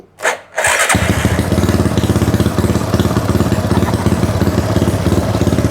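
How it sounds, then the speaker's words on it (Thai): A modified Honda Wave 125i motorcycle with a 4-valve head and an added fuel injector: a brief electric-starter crank catches, then the engine settles into a steady, loud, close idle with an even rapid pulse. "เรามาติดเครื่องกันดูว่ามันสตาร์ทติดง่ายไหม"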